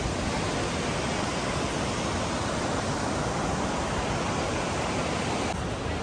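A waterfall near the Engenho Central in São Paulo gives a loud, dense, continuous roar of rushing water that stays steady throughout, with no voices.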